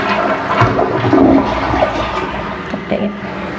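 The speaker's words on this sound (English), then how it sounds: "let's flush it and see how it looks." A household toilet flushes close by, with a loud rush of swirling water that stays steady for a few seconds and then gurgles as it drains.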